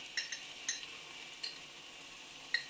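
Onions fry in a pan with tomato pepper sauce, giving a faint steady sizzle punctuated by a few light clicks of a utensil stirring against the pan.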